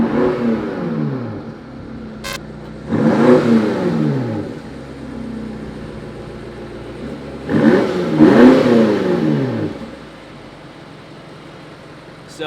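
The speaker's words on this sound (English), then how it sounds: "So exhaust is open right now, but it's actually in efficient mode." A 2019 BMW M5 Competition with aftermarket Armytrix downpipes revs sharply twice with a throaty open exhaust in efficient mode, each rise falling back to a low, burbling idle.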